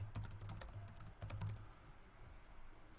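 Quick clatter of typing on a computer keyboard as a tag name is entered, with rapid keystrokes in short bursts, then quieter, alone with no talk.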